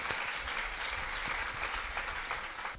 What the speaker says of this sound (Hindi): अब हमारे इस सीरियल के जो लेखक हैं, इनका तालियों से आप स्वागत कीजिए।